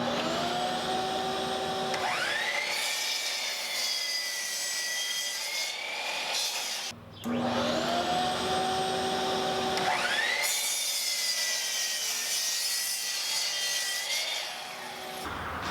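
A power saw cuts 8-foot boards into 3-foot fence sections in two long passes, each starting with a rising motor whine that settles into a loud, steady cutting drone, with a brief pause between cuts.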